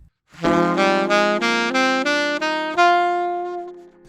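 A D Dorian minor scale played upward one note at a time on a ringing keyboard-like instrument, evenly paced, ending on a held top note.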